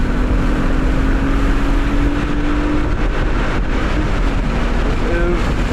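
A 1999 BMW M3 on H&R lowering springs drones along a race track, a loud steady engine hum with heavy wind rush throughout and a slight rise in pitch near the end.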